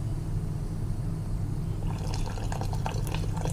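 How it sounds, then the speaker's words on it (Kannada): Water is poured onto vegetables in a cooking pot, starting about two seconds in as a close splashing, dripping pour over a steady low hum, with no talking. "ಅದಕ್ಕೆ ಸ್ವಲ್ಪ ನೀರು ಹಾಕಿ ಬೇಯಿಸೋಣ."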